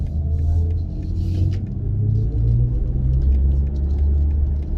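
A 2022 BMW i4 M50 electric car launches in sport boost mode with dynamic traction. A low, steady cabin rumble and road drone hold throughout, with faint hum layers shifting as it pulls, and no talking.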